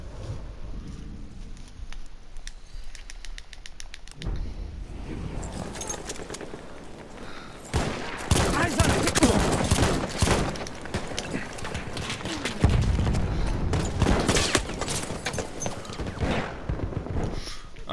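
Light machine gun fire in a first-person shooter video game: dense, loud bursts of rapid automatic gunfire with heavy thuds, building after a quieter stretch and continuing through the rest of the clip.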